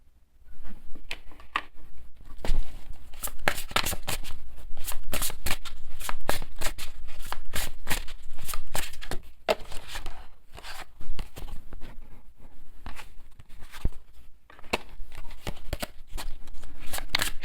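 Tarot cards shuffled and laid out in a steady run of crisp riffling slaps and flicks, close and fairly loud, with no talking.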